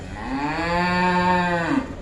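A cow in a mango grove beside a Venkateswara temple gives a single long, close moo. The moo lasts nearly two seconds and rises slightly before trailing off, with no talking.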